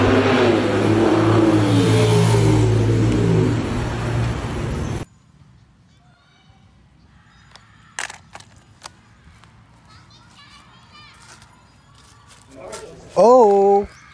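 A toy pickup truck plays a loud engine rev for about five seconds, then stops abruptly. Faint clicks and a short voice follow.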